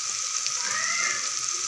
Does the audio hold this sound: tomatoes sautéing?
yes